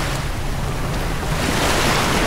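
Sea waves along the coastline at Cebu, a steady broadband wash of surf with some wind buffeting on the microphone, continuous and fairly loud, with no talking.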